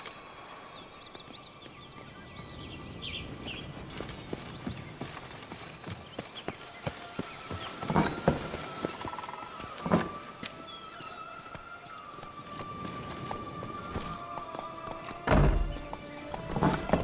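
Geralt's horse in The Witcher 3: Blood and Wine moves along with steady clip-clopping hoofbeats over a long stretch, punctuated by a few louder thuds, with birdsong and ambient game sounds behind and no talking.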